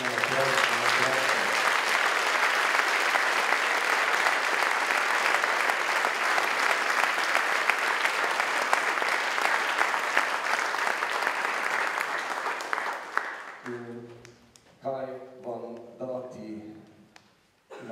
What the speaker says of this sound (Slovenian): prosim za en velik aplavz za naše mentalne aplavze